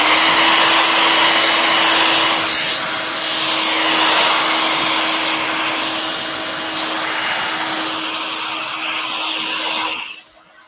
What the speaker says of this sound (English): This is quite a powerful hairdryer.